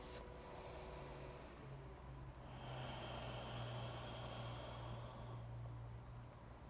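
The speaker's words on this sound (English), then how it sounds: "Deep breathing with sound in and out through the nose." Deep yoga breaths during an Ashtanga half primary series pass audibly through the nose, with one long slow hissing inhale and exhale heard close up and alone, no talking.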